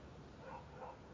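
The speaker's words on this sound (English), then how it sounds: "I hear a barking dog out there." A dog barks faintly outdoors, with a couple of soft yips heard far off under a low, steady background hiss.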